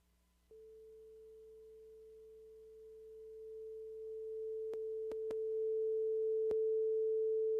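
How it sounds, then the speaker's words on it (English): A pure, steady sine tone starts after a brief moment of quiet and holds unbroken, with a few faint clicks near the end. "you hear the test tone, right? Yeah. Is it steady?"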